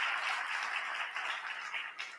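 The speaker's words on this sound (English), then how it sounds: "Let's give them a round of applause." Steady applause from an audience, a dense patter of many hands clapping at moderate volume without voices.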